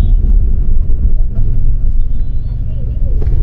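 Low, steady engine rumble and road noise from inside a moving Volvo 9600 bus on a road trip to Siliguri, continuous throughout with faint talk in the background.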